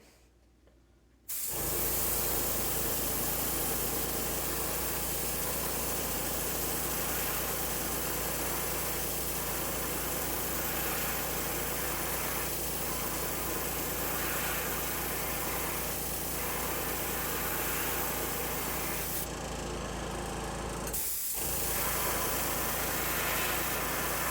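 An air compressor drives an airbrush spraying fluorescent yellow paint onto the belly of a fishing bait, giving a loud steady hiss and motor drone that starts abruptly and runs continuously, briefly cutting off near the end.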